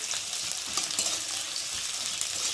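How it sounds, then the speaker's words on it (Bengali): Chopped onion and green chili frying in a pan, a steady close hissing sizzle with faint stirring scrapes, continuous and without talk. "আর দেবো লঙ্কা কুচি দিয়ে একটু পেঁয়াজটা ভালো করে ভেজে নেব"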